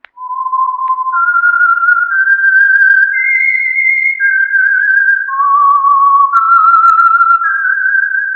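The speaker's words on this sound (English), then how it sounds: "That whistle is your signal for the Signal Oil program, The Whistler." A lone whistler carries the theme tune of the radio mystery show The Whistler, a clear, loud melody of sustained notes that step up and down in pitch, close and unaccompanied.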